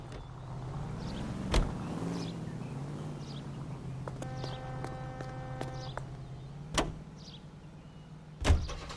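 A car driven in the video game LA Noire on PS4 holds a steady low engine drone throughout, broken by a few sharp thumps and clunks, with no one talking.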